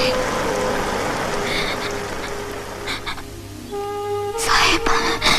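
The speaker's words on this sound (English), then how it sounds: "Yes, it's raining." Rain falls steadily in a film scene, a dense broadband hiss that fills the background with a few brief tonal sounds and bursts near the end.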